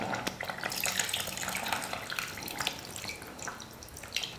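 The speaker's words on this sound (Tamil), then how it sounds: "அந்த புளி கரைசலை ஊற்றிக்கலாம்." Tamarind water is poured into a pot of sambar, making a close, continuous splashing pour that stays fairly even throughout, with no one speaking.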